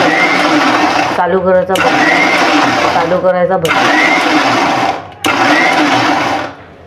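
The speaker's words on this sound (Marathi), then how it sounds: "मिक्सर चालू करायचा" An electric mixer grinder blends strawberries and sugar for a milkshake, loud whirring in three bursts separated by short pauses, close up.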